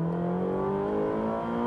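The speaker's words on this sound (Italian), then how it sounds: "scarichiamo tutta la potenza del motore e tutte le marce fino alla sesta" A Ferrari 458 Speciale accelerates hard down the straight of the Fiorano test track, its engine note climbing steadily in pitch as a loud, continuous, close-up roar.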